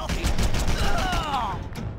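Continuous gunfire in Red Faction 2, a dense, close, rattling burst lasting about two seconds over a low rumble of battle noise.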